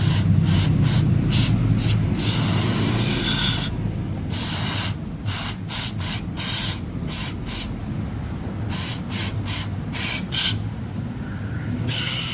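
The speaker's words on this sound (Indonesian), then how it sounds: "Oke, bersihkan. pakai karbu cleaner." Carburetor cleaner sprayed onto the throttle body of a Honda Beat eSP scooter in repeated hissing bursts, loud and close, with short pauses between squirts and a steady low rumble underneath.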